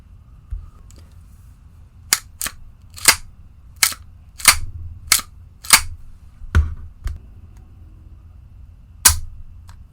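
Staccato STI 2011 handgun fired in a series of about eleven sharp, loud shots at uneven intervals, with some quick pairs and longer gaps, over a low background rumble and no talking.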